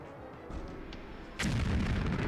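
Grenade explosion blowing up a wall in Jagged Alliance 2: a sudden heavy boom lands after a quiet lead-in, then a loud, sustained rumble of debris follows, with no voices.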